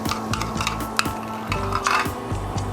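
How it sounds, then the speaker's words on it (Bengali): Spices for potato dal stir-fried in a pan, a spatula scraping and tapping in quick repeated strokes over a faint sizzle, close and steady. "এই মশলাগুলো আমি ভালো করে কষে ভেজে নেব"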